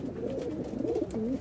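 Racing pigeon cooing inside a loft, a soft, low, wavering coo rising and falling over a second and a half, near and alone against quiet background noise.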